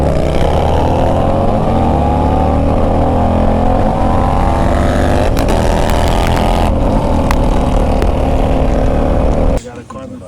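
Harley-Davidson Road Glide motorcycle on a test ride, a loud continuous engine drone close by the whole time, cutting out just before the end.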